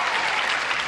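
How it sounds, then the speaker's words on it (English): Studio audience at a 1983 Match Game–Hollywood Squares Hour taping bursts into dense, steady applause welcoming the celebrity panel, loud and continuous throughout the short stretch. "would you join John and me in giving a hearty welcome to our stars with a brisk round of applause?"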